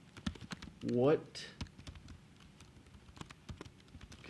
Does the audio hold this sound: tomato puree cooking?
no